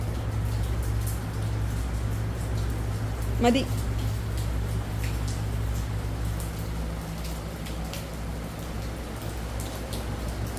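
Steady rain hisses evenly throughout, with a brief spoken word partway through.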